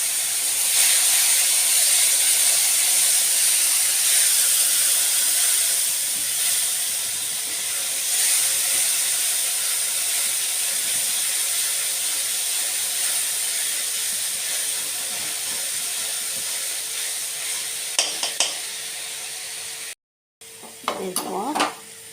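Puréed tomato hits hot oil in a frying pan while cooking a Bengali pabda fish kalia, a loud, steady hissing sizzle that slowly fades, followed by brief clatter near the end.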